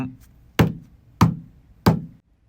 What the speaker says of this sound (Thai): เราได้ยินเสียงคนทุบประตูห้องน้ำ